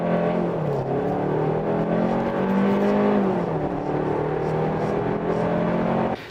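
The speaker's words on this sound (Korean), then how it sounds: "8초 전후에 시속 100km 가속시간 기대할 수 있지 않을까 싶습니다" A Hyundai Kona 1.6 Turbo in sport mode with the air conditioning off accelerates hard from a standstill to 100 km/h. Steady, loud engine drone climbs and shifts in pitch through gear changes for about six seconds, then cuts off abruptly.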